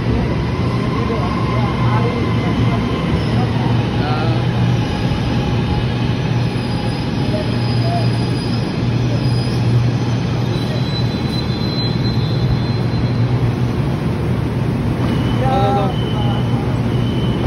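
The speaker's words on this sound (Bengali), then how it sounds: "ট্রেন চলে আসলো" A light rail train on the Malaysian LRT rumbles loudly into a station, a constant roar with wheels squealing near the end and voices faintly underneath.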